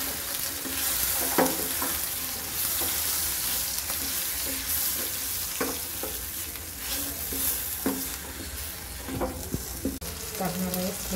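Roasted ground masala paste frying in a little oil in a pan for homemade mutton curry, with a continuous sizzle and repeated spoon-stirring scrapes at irregular intervals.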